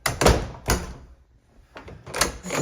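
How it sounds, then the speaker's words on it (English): A room door closing after a small rebate was cut around the frame to clear it, heard as a couple of close, firm thuds and clatters with quieter handling noise between them, no talking. "the door can close without interference"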